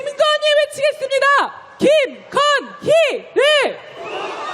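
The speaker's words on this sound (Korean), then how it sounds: "이번엔 김건희 외치겠습니다" At a rainy candlelight impeachment march, a leader's amplified voice rapidly calls out a name, then four evenly spaced, loud chanted syllable groups ring out in steady rhythm, with crowd noise swelling faintly at the end.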